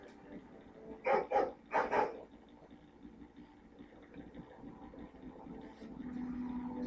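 A dog in the Dragon Age Origins video game gives two quick bark bursts, moderately close, and then a low engine-like rumble rises toward the end.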